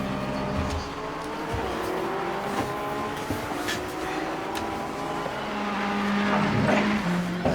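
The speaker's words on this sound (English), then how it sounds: "I'm going to stand outside the car and watch this dry tyre to wet tyre change" BMW M6 GT3 pit stop in Assetto Corsa Competizione during a dry-to-wet tyre change: a steady idling engine drone with tonal whines and sharp mechanical clatters from pit crew tools, close and continuous.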